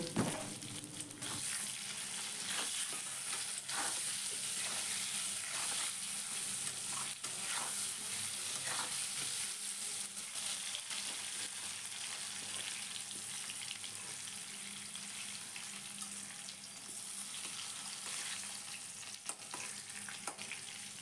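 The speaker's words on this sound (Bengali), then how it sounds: "আলুটাকে কিন্তু আমি খুব ভালো করে লাল লাল করে ভেজে নেব" Potatoes seasoned with salt and turmeric fry in hot oil, giving a steady, dense sizzle that holds evenly throughout with small stirring clicks and no voices.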